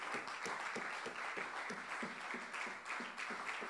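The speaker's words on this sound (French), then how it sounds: "Donnons une acclamation au Seigneur." Congregation applauding during a Sunday communion church service, a steady wash of many hands clapping with a loose rhythmic pulse, moderately distant and even throughout.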